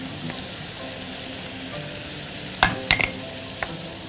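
Diced vegetables with pepper, paprika and a light pinch of dill sizzle softly in a pan while being stirred, a steady low frying hiss with a few sharper clinks and scrapes near the end.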